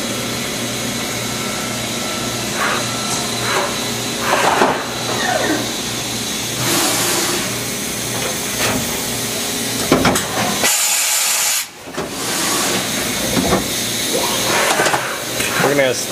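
A Kitamura HX300 horizontal machining center with a Fanuc Series 15M control runs with its spindle at 1500, giving a steady broadband hiss and hum with a brief sharp burst near the end, under someone talking.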